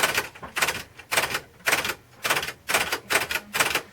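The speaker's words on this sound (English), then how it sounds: "This is a Royal Safari typewriter, made in America." Keys strike on a Royal Safari manual typewriter made in America, seven evenly spaced sharp clacks in a steady rhythm, close and clear with no talking.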